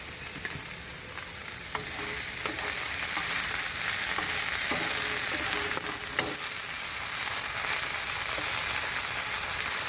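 Okra fries in a pan, a dense continuous crackle and sizzle with scattered stirring clicks and scrapes, close and steady throughout.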